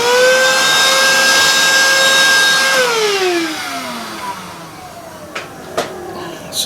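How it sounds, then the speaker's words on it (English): A vacuum cleaner runs loud and steady near a model railway build, its motor whine then dropping as it powers down, leaving light handling clatter afterward. "Vacuum that up."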